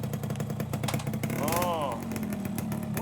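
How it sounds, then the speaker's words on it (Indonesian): A motorcycle engine runs steadily at a repair workshop after being fixed, a continuous low rumble with revving pulses, heard under overlapping talk. "Motor saya kok jadi malah hidup gini?"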